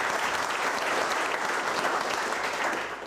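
A live studio audience at a motorsport show claps in a dense, loud burst that runs steadily for about three seconds before easing slightly at the end.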